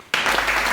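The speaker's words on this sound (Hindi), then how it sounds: "जोरदार तालियां।" Loud applause from an audience bursts in suddenly after a moment of quiet, a close, full wall of clapping that stays strong to the end.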